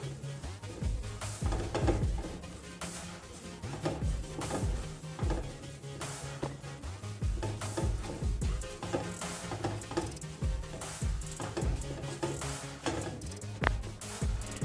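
Whole spices are stirred and roasted in a pan over a low flame, with a spoon scraping and knocking against the metal in irregular, fairly soft clatters throughout.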